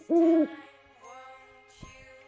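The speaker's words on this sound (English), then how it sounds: "Owl." An owl gives a short, clear hoot close by, followed by quieter tonal hooting and a soft click, with no talk.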